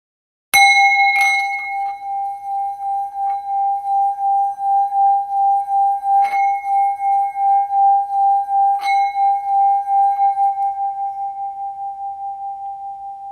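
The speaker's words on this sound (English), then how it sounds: "once the sound of the singing bowl rings out" A singing bowl is struck once and rings out alone with a clear, steady tone that swells and slowly fades, with two softer strikes adding brief metallic accents partway through.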